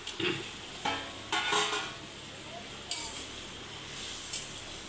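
Pointed gourd (potol) being added to a pan and cooking, a faint low hiss of frying broken by a few brief clanks and scrapes of utensils against the pan.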